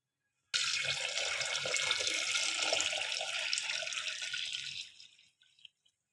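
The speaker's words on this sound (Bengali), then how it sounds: "এখন আমি ডালে উষ্ণ গরম জল করে রেখেছিলাম, ওটা দিয়ে দেবো" Warm water poured steadily into moong dal boiling with fish head, a continuous bright gushing stream for several seconds that tapers off into a few drips, with no talking.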